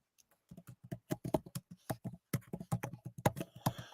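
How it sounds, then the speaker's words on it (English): Rapid typing on a computer keyboard, a close, crisp run of irregular key clicks that quickens and stays busy throughout, with no voices. "I'm not ignoring you. I'm just typing."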